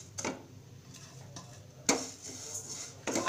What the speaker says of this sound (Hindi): बराबर चलाते रहना जिससे धनिया जलने ना पाए।